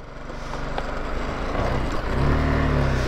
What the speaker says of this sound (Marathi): इथून गाडी चढवतोय मी